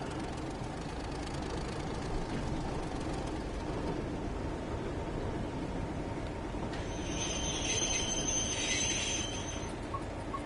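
A BR Class 31 diesel locomotive in Train Sim World 3, its engine droning steadily with a low rumble and rail noise underneath, a brighter metallic squeal rising briefly near the end.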